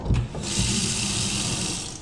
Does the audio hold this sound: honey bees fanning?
no